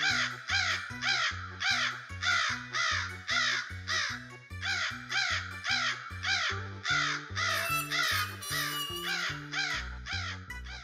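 A crow caws loudly and repeatedly in a steady rhythm, harsh close calls following one another with short gaps for about eleven seconds, with no talk.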